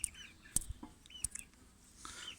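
Chickens cluck in a backyard flock that includes a pea-combed rooster: scattered short clucks and calls come at irregular intervals, fairly faint and close by, with no speech.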